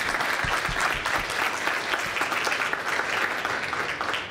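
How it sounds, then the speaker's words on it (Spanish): Audience applause at a mining and extractive metallurgy forum, a dense steady clapping that runs loud and unbroken from start to finish with no voices over it. "Un aplauso, por favor, para Wilder."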